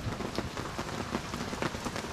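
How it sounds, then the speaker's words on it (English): Heavy rain pounds steadily on a camper awning at a campsite, a dense, close patter of drops with occasional heavier splats and no talking. "It's rained that hard"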